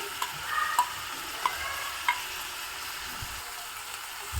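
Green peas frying in a pan with ground masala paste for a South Indian rice dish give a faint, continuous sizzle, broken by a few light clicks and scrapes of stirring, with no voices.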